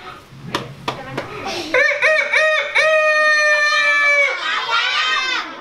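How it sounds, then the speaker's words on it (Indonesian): A rooster crows loudly and close, a long drawn-out harmonic call lasting a few seconds, preceded by a couple of sharp clicks. "Ayam jago atau ayam jantan? Ayam jago."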